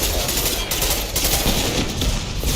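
Dense, continuous video game gunfire from Mass Effect 2, rapid overlapping shots forming a steady, loud barrage with no pauses and no talk.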